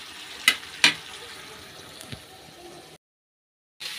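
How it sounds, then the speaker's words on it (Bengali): Cauliflower and potato frying with spices in a pan give a steady, soft sizzle with two sharp clicks near the start. The sound then cuts out briefly and resumes. "এই যে দেখো ফুলকপি আর আলুটা ভাজা হয়ে গেছে, ভালো করে মশলাটা কষিয়ে নিয়েছি"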